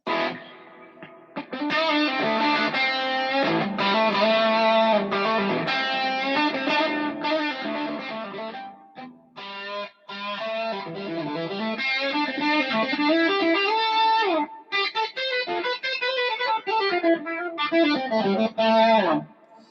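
Fuzzy electric guitar through a Boss Waza Craft Tone Bender FZ1 fuzz pedal rings out with a wash of reverb, chords and bends trailing into a spacious echo, steady and loud throughout.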